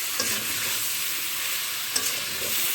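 Sliced ridge gourd frying over low heat with chilli powder, stirred in a pan; a steady, close hiss of sizzling oil with a couple of light scrapes of the spatula.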